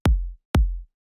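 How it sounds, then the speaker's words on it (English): A simple, quick, punchy kick drum sample for future house hits twice in steady succession, with a third hit starting at the end; each is a loud, tight thump with a short low tail and no other sound. "Just like a really quick and punchy kind of kick works for this style."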